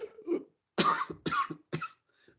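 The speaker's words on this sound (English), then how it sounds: "I started coughing because I tried to burp." A person coughs several times in quick harsh bursts, close by, after a brief throaty attempted burp at the start.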